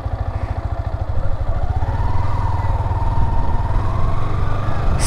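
A Yamaha R15 V4 motorcycle is ridden with a steady, close engine drone that climbs in pitch over a rushing wind noise, with no talking.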